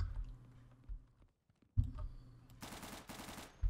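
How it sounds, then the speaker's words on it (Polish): Hip-fired gunfire in the shooter game Day of Infamy: a few heavy shots, then a rapid automatic burst, loud and close, with no talk over it. "No bo to jest strzały z biodra z mojej strony."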